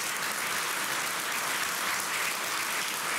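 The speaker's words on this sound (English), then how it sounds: "Give these folks a round of applause." An audience at a Legends of the Outdoors induction dinner claps loudly and continuously, a dense, even wall of applause for honored tables.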